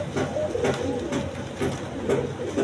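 Pigeons coo softly and repeatedly, close by, with low throaty calls rising and falling in a steady rhythm.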